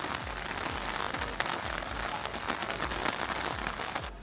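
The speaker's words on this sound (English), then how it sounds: "and this is rain." Steady rain falls during a river cruise shore tour, a dense, even patter of drops hitting surfaces, close and continuous with no talking.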